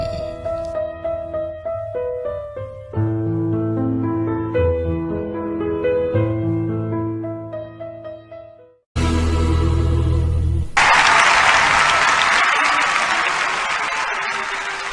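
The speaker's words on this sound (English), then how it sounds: "let us with a standing ovation and with a glorious applause make welcome Richard Cassin" Instrumental music plays, stops, and then loud, sustained applause from an audience takes over to the end.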